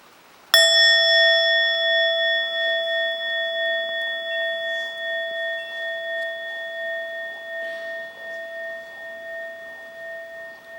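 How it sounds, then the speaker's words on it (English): A meditation bell is struck once during a mindfulness retreat, ringing out with a clear, sustained tone that decays slowly over about ten seconds with no talk. "you invite the bell for the 3rd time"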